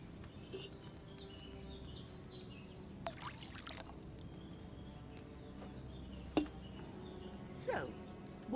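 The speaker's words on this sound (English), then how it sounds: "First, you have to pour the right base into the cauldron." Liquid pours into a cauldron in the Kingdom Come Deliverance 2 video game, a soft steady trickle over a low background hum, with a few faint clinks and taps scattered through.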